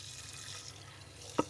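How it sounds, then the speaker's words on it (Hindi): Water runs softly from a kitchen tap while potatoes are washed, a faint steady hiss with one brief splash near the end. "यहाँ पानी चला के अच्छे से इसे वॉश कर लेते हैं"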